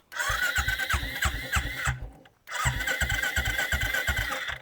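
A Royal Enfield Bullet 350cc motorcycle fires up into its loud, deep, rhythmic single-cylinder thump. The engine cuts out for a moment and then restarts into the same steady idle, close up with no talk.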